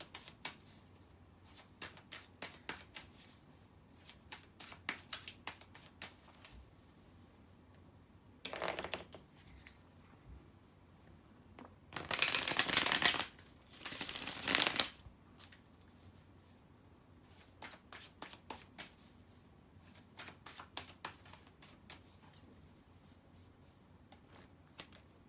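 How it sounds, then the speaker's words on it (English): Tarot cards being shuffled by hand during a reading: soft, scattered riffling and tapping, then a louder burst of rapid shuffling in the middle and a second burst shortly after, ending in quieter intermittent card handling. "So let me shuffle the cards and see what you are to experience there."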